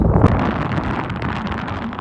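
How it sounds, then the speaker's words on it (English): Gusty wind rushes over the microphone, strongest at the start and then easing into a steady, rumbling blow. "It's windy today, but it's good."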